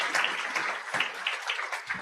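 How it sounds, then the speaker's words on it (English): A round of applause at a university education convocation ceremony, a moderately distant, steady patter of many hands clapping with no voices over it. "Give them a round of applause"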